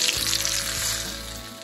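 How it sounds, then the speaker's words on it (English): Brown butter with a squeeze of lemon being whisked in a bowl, giving a steady close sizzling, bubbling hiss with light clinks of the whisk throughout, no talking. "I'm just gonna whisk it around"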